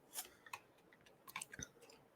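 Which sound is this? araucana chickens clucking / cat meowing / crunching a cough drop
crunching a cough drop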